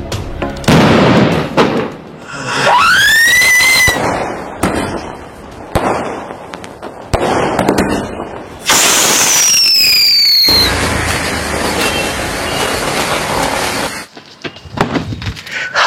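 Sivakasi firecrackers from 2025 combo packs go off loud and close: repeated sharp bursts, rising whistling shots and long stretches of dense crackling fill the whole stretch.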